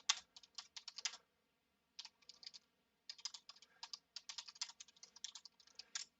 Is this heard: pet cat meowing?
no